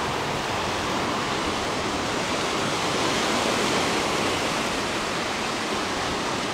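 Mediterranean Sea surf on the Turkish Riviera, a steady dense wash of waves that holds even and full throughout, with no voices.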